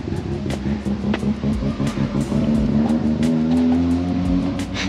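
A Mazda RX7 with a rotary engine revs hard near a street festival at Summernats, a loud, raspy, fluctuating engine roar with rising and falling revs and no speech.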